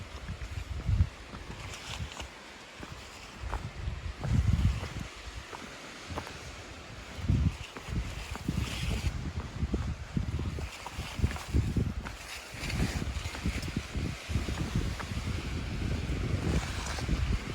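Gusty wind on a cold mountain section of the Appalachian Trail buffets the microphone in uneven rumbling bursts, rising and falling throughout, with a faint washing sound beneath.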